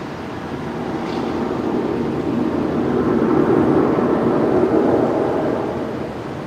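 Emirates airliner departing Brisbane Airport at night, a deep engine rumble that swells to a peak midway and then eases off, heard from a distance.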